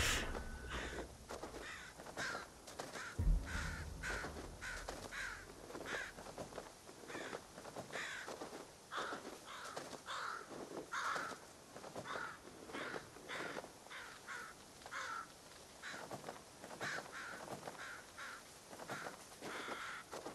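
Crows cawing in the video game Ghost of Tsushima, repeated harsh calls over roughly twenty seconds against a steady game ambience, moderately loud and with no talk.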